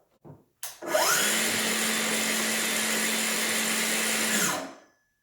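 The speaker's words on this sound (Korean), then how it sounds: "안전 레버를 올린 후에 톱날을 가동하면서 톱날을 내려주시면 됩니다." A power saw blade spins up with a click and a quick rise in pitch. It holds a loud, steady whirring whine for several seconds while the blade is lowered, then cuts off abruptly.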